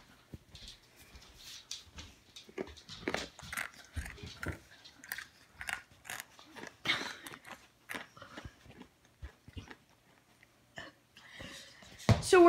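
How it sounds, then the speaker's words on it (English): Dry dog food being chewed and bitten up, a run of uneven crunchy bites at close range in a quiet room, with occasional brief vocal sounds mixed in. "No, you gotta chew it up."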